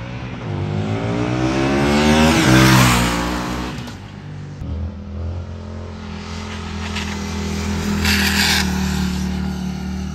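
An Indian FTR 1200 Carbon motorcycle being ridden, its engine revving up to a loud peak, dropping off, then settling into a steady throaty drone with wind noise.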